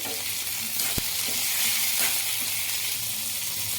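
Tamarind and small pieces of ginger sizzle in hot oil in a pan, a loud, continuous close-up frying hiss with stirring and a brief sharp clink near the start.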